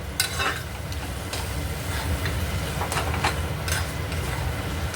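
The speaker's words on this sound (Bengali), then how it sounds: "আরও খানিক্ষণ নাড়বো" Mashed brinjal bharta is stirred in a hot pan, a steady close sizzle with repeated scraping strokes of the spoon against the metal, continuous and fairly loud with no talking.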